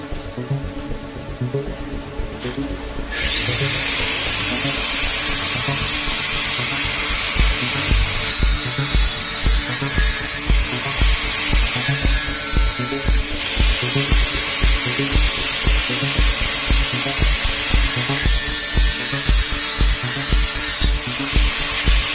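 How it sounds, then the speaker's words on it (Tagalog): Angle grinder cutting metal parts for a forehead mirror install on a Toyota Hiace Commuter van, a loud, steady high-pitched whine with harsh grinding scrape, continuous and close for the whole stretch with slight surges in pressure. "Ayan na guys, nag-grinder"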